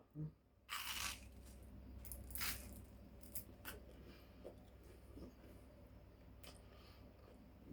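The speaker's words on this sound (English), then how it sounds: "Now I'm going to try the garlic bread first on its own." Someone bites into garlic bread served with spaghetti, giving a few crisp, close crunches early on, then quiet, soft chewing.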